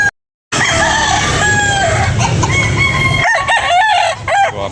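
A rooster crows loudly and close by at a poultry market, a long drawn-out call followed by shorter clucking bursts, with no one talking.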